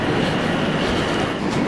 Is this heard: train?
yes